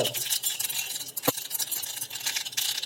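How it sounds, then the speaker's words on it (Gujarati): Mustard seeds drop into hot oil in a pan to temper vegetable khichdi, giving a steady crackling, hissing texture with stirring scrapes and one sharp clink midway. "સૌપ્રથમ થોડી રાઈ ઉમેરશું, થોડુંક આખું જીરું નાખવાનું છે મિત્રો"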